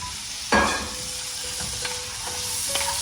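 Tomato dropped into a pan of melted butter: a sudden burst of sizzle as it lands, then a steady frying hiss with a few scraping stirs and light clinks of a utensil against the pan.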